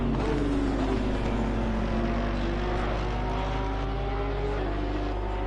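GT3 race cars, among them a Porsche, drone loudly in Assetto Corsa Competizione at Barcelona, a continuous engine whine with shifting pitch as the cars run close together.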